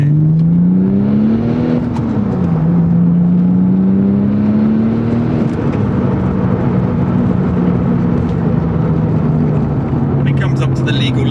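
A Porsche 996 Turbo with a manual gearbox pulls hard, its engine note rising steadily and shifting pitch as it accelerates, loud and close with strong wind and road roar beneath.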